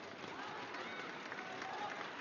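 Dense crowd applause and cheering fill the hall at a world junior wushu championship taolu event, a continuous roar of clapping at moderate distance with no voices on top.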